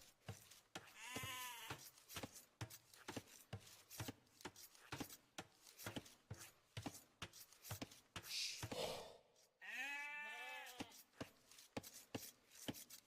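Repeated sheep bleats from a game, several calls over a busy stream of short rhythmic clicks and thumps.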